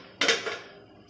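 A metal lid clanks down onto a pan of simmering tomato and onion, one sharp, close clatter that rings briefly and fades.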